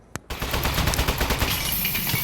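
A turret firing in the Desk Job video game: a sharp click, then a loud, sustained stream of rapid rattling shots close up, running unbroken to the end.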